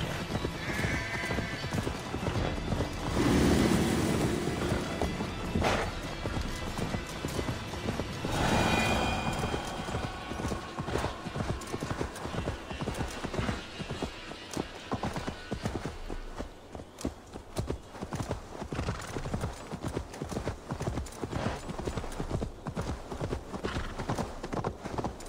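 Horse galloping in Assassin's Creed Valhalla, a continuous rapid drumming of hoofbeats close and loud throughout, with a brief whinny early on and game ambience around it.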